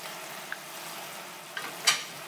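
Pork belly frying in a pan for double cooked pork, a steady soft sizzle with a couple of small pops and a louder hiss near the end as cooking wine hits the hot pan.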